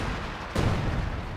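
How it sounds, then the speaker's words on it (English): A high-explosive artillery barrage in Company of Heroes 2. A single loud boom lands midway over a constant low rumble of battle, then a rolling decay follows. "And we got a high explosive barrage in return"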